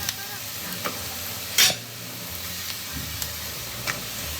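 Green chilies hit hot oil with onion for a chicken curry, a close steady sizzle with light stirring taps and one brief louder burst of spattering.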